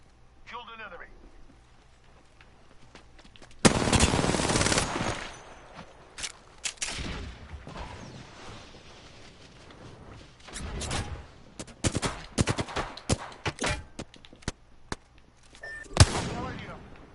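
Apex Legends gameplay carries loud bursts of gunfire and rapid shots in several clusters, with an abrupt heavy volley near the start and scattered cracks later, mixed with in-game sounds.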